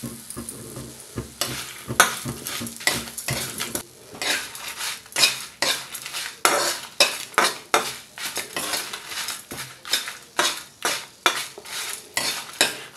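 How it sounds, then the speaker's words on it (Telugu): Sesame seeds and spices roasting in a pan for a pumpkin chutney, with rhythmic, repeated scraping strokes of a spoon against the metal pan over a light sizzle, close and fairly loud, no talking. "ఇప్పుడు 2 చెంచాలు నువ్వులు వేస్తున్నాను."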